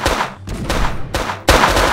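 Gunfire in a Prop Hunt video game: rapid bursts of shots, loud and close, with a brief lull between volleys and a fresh burst at the end.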